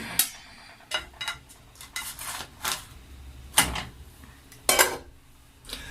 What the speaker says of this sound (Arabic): نبدا نقلبه كده على الناحيه التانيه، بحيث ان نسويه على مهلنا.